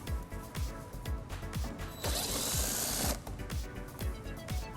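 8mm socket on a ratchet turning a screw on a 2009 BMW X5 bumper area, a quick steady string of close clicking ratchet strokes with a brief hiss in the middle.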